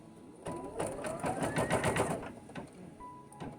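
An embroidery machine stitches a placement marking for a Nossa Senhora Aparecida in-the-hoop design, producing a close, rapid mechanical whirring with a rhythmic needle patter for a couple of seconds before winding down.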